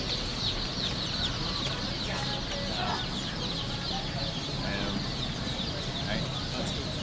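Chicks at a hatchery keep up a dense, continuous chorus of high cheeping, many birds chirping over one another in an unbroken wash with no pause.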